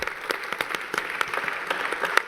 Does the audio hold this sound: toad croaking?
no